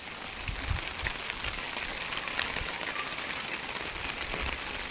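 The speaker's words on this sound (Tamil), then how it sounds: "பாருங்கள் மழையை." Steady rain falls outdoors in a dense, even hiss of countless drops, with occasional heavier patters and low rumbles, continuous and fairly close throughout.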